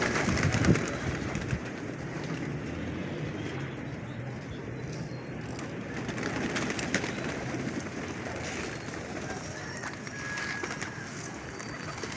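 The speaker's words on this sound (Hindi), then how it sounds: "ये देखो ढेर लगा हुआ दोस्तों कबूतरों का" A flock of pigeons kept by a Lahore pigeon fancier coos and rustles nearby in a soft, continuous murmur, with faint background noise and occasional other sounds throughout.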